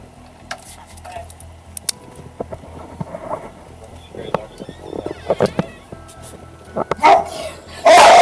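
Dogs bark in scattered bursts, some near and some farther off, mixed with people talking, before a loud rushing noise at the end.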